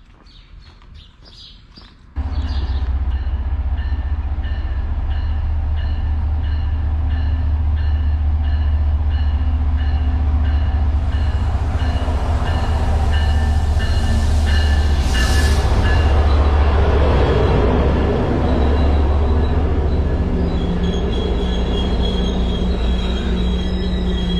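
A train rolls in loudly and keeps running, a heavy low rumble with rattling wheels and a high squeal rising midway, continuous and close.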